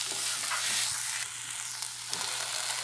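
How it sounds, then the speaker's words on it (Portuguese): Seasonings for a tomato sauce sautéing in a pan, a continuous close sizzle and crackle with a few soft stirring knocks and a low steady hum underneath. "Dá uma leve refogada nos temperos"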